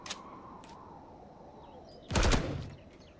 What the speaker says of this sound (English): Why can't I shoot these guys?